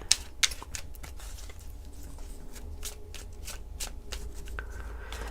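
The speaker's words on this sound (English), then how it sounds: "I'm not going to fast forward through my shuffling." Tarot cards being shuffled continuously, a rapid flurry of soft riffling and tapping taps at close range, steady and unhurried, with no voices.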